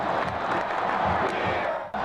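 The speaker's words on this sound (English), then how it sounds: "To the roar of the crowd, the chant" A stadium crowd at a Florida State Seminoles football game roars and chants continuously, a dense, distant wash of many voices that swells slightly and then cuts off abruptly near the end.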